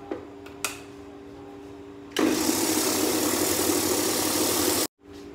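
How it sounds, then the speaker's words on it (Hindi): A mixer grinder whirs into action, grinding leftover cooked rice with a little water in its jar. It runs loud and close for nearly three seconds before stopping abruptly, with quiet clicks and a low hum beforehand. "और इसे मिक्सी जार में डालकर पीस देंगे।"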